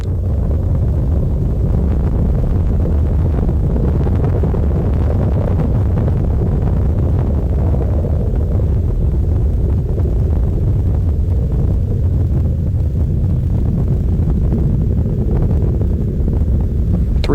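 Space Shuttle Discovery's three liquid-fueled engines roar during launch from Complex 39A, a continuous, loud, deep rumble that stays steady and heavy with no gaps and no voices.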